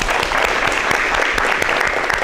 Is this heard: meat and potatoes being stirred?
no